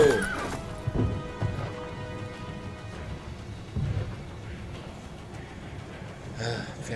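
A horse in Assassin's Creed: Brotherhood whinnies and snorts amid clattering galloping hooves, with rumbling and rain-like noise behind it, loud and close.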